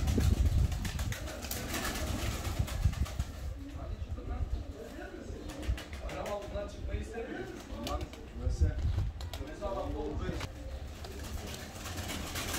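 Şebap pigeons coo in a coop, low soft calls repeating steadily throughout, with people talking nearby over the birds.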